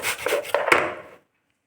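Apples being grated by hand, a dense scraping rasp of fruit against a grater in a kitchen, close and steady for about a second before stopping into silence.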